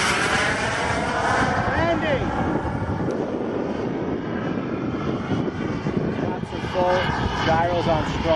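A radio-controlled model airplane makes a gear-down pass with its gyro set to strong. Its engine whines loudly and steadily throughout, with changing pitch and wind buffeting the microphone.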